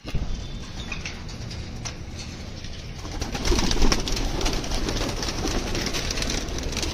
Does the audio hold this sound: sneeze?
no